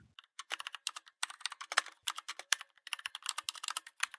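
Rapid typing on a computer keyboard while entering a command in Windows 10, close and clear, with steady clusters of key clicks and short pauses between words.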